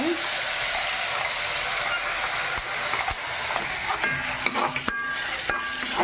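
Chicken sizzling in a pan in a home kitchen, a loud steady fry and hiss stirred with a utensil, with scraping strokes and a few sharp metallic knocks against the pan toward the end.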